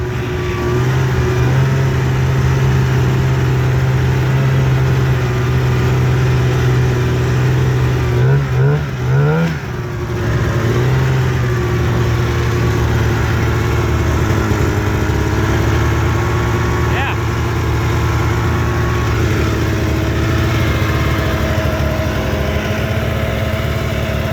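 A 1998 Arctic Cat Z440 fan-cooled twin-carb snowmobile engine idling close by, a loud steady two-stroke drone with a brief wobble in pitch partway through, then settling back to an even idle.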